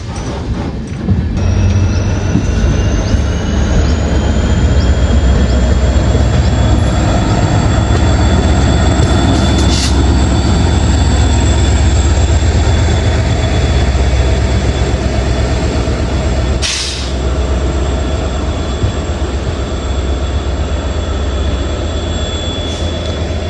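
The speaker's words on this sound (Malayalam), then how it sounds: "നമുക്കിവിടെ ഒരു double stack container goods train കിട്ടും. പക്ഷേ ഇലക്ട്രിക് ലോക്കോ അല്ല, ഡീസൽ ലോക്കോ ആണ് ഇതിനുള്ളത്." A double-stack container goods train hauled by a WDG5 diesel locomotive rumbles past loudly and continuously, a steady heavy roar of wagons with a sustained high tone running through it.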